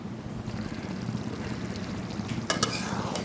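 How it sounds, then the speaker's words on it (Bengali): A pointed gourd curry is stirred in a pan, giving a soft continuous sizzle with scraping and a brief clatter of utensil against metal near the end, moderately close and without speech. "এখন নাড়ার মধ্যে রাখতে হবে না হলে নিচে লেগে যাবে"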